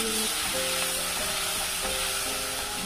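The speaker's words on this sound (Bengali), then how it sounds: "পেঁয়াজ ভাজা হয়ে গেছে, দিয়ে দিচ্ছি মশলা দিয়ে ভালো করে কষিয়ে নেব।" Chopped onions with added spices sizzle steadily in hot oil while being fried for a pork curry, a continuous close frying hiss with no voices.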